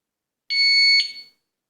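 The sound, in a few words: disc lock alarm beeping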